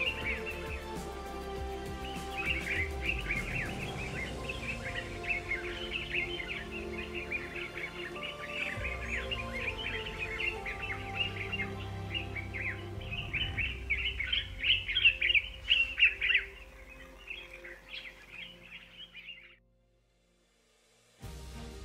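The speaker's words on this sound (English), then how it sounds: "The bird life is extraordinary." Birds singing at a bush camp in the Makongo Hills, a dense chorus of high chirps and trills running continuously over a low background hum, fading out near the end.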